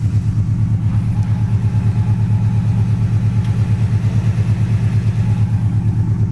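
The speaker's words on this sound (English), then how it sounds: "Car sits here and runs and idles good." A 1971 Oldsmobile Cutlass with a 350 two-barrel V8 idles steadily up close, its low, even engine pulse running unbroken throughout with no talk.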